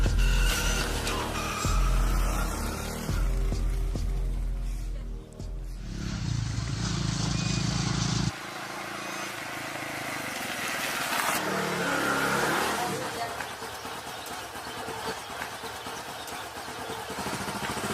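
A motorcycle engine revs and runs close by, with rough, loud mechanical roar shifting in pitch as the machine rides and idles, continuing steadily with no one speaking.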